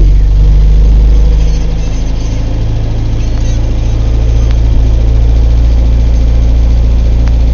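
A Series II Land Rover engine turns over and runs on a cold start, a loud, steady low rumble near the microphone that keeps a constant idle throughout, with no clear speech over it.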